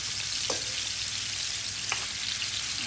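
Pieces of Katla fish sizzling in hot oil in a pan, a continuous dense hiss with a couple of brief stirring scrapes.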